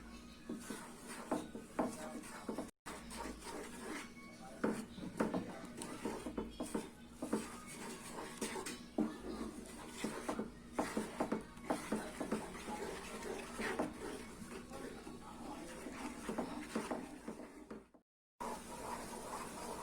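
Milk powder mixture for Mysore pak stirred in a pan over medium flame, soft scraping and tapping of the spoon against the pan repeating irregularly, faint and close, with brief gaps.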